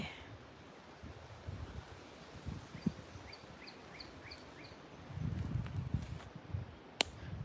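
Wind blows loudly past the microphone outdoors, a steady rushing roar with gusts that swell stronger near the end, a few faint distant bird calls, one sharp knock and no talk.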